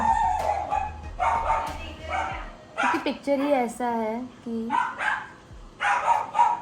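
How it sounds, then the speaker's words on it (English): A pet dog barks and yips in several short bursts indoors, including a run of rising whiny yelps, mixed in with someone talking before and after. "I'm very sorry for the interruptions of my doggy and a lot of doggies."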